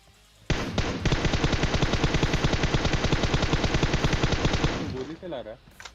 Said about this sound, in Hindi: गोली चला रहा है।